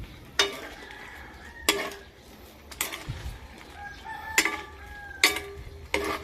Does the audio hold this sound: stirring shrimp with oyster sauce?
yes